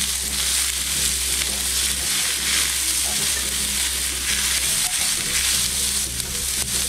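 Peppers and onions sizzle loudly in a hot pan, a dense continuous crackle with a low steady hum beneath and occasional scraping of a spoon stirring through the vegetables.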